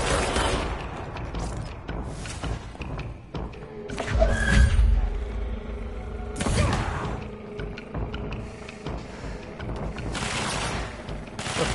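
Scattered gunfire and heavy thuds in the video game Control, several separate bursts and impacts spread across the clip, some loud and close, others softer, over a busy background of game noise and music.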